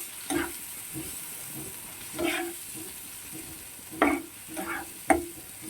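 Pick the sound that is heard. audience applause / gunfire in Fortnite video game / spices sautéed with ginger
spices sautéed with ginger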